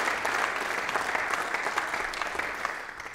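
Audience at an energy briefing on synthetic fuels gives a warm round of applause for a research institute and its presenter, a dense, even patter of many hands that is loud at first and then eases slightly.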